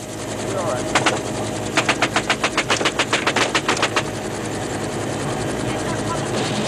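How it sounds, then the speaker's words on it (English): Helicopter crew firing machine guns at troops on the ground, a rapid burst of roughly fifteen loud, evenly spaced shots over a steady, throbbing rotor and engine drone, with a brief earlier burst. "He and the crew chief return their fire."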